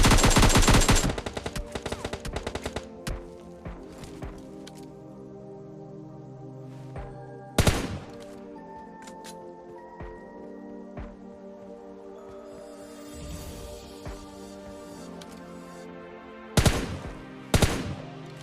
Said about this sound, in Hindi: तभी मुझे पीछे से भी कुछ गन साउंड आ रहे थे